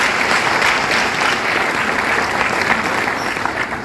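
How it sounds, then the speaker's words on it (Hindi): A seminar audience in a hall gives loud, sustained applause, a thick wash of many hands clapping at once that stays steady throughout, with no voices on top. "आप जरूर एक बार सर के लिए जोरदार तालियां।"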